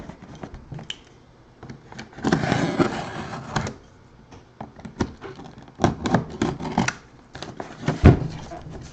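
A box cutter slices open a sealed cardboard box in repeated scraping, tearing strokes of varying loudness, ending in a sharp crack near the end.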